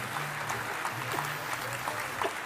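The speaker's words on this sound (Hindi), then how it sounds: "तो एक जोरदार तालियां मेरे सारे अपलाइन के लिए" Applause at a business event in a large stadium hall, a dense, steady patter of many hands clapping, heard from a distance at moderate loudness without any voices over it.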